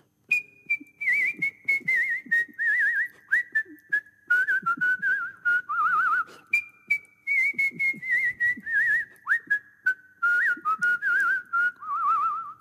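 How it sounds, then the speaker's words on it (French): A clear, melodic whistle carries the Carmen melody in long phrases with trills and ornaments, close and prominent, with a faint string quartet accompaniment underneath and no talking. "Dans votre spectacle, vous sifflez notamment, allez, Carmen."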